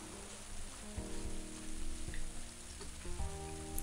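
Soft, steady rain patters under a low sustained game music tone, with a few brief thuds now and then, in the video game Little Big Adventure 2.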